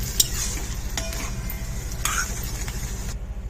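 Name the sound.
egg burji frying and being stirred in a pan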